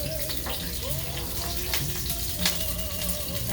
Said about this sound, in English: we're gonna saute onions